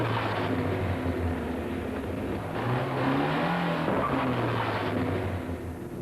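A car revs and maneuvers in a parking lot, bumping into parked cars, its engine droning steadily at moderate distance with a brief pitch swell midway.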